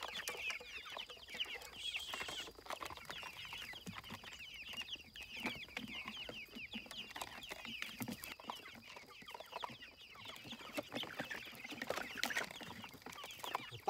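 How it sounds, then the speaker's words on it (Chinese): Chickens clucking as they are fed freshly dug earthworms in a rural setting, a busy, continuous chatter of soft clucks and calls from several birds, fairly faint and close. "现在拿这个蚯蚓来喂鸡吧"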